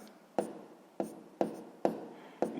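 A pen or pencil writes out a sixth-grade fraction problem on paper, five crisp taps and strokes spaced about half a second apart, quiet and close with no voice.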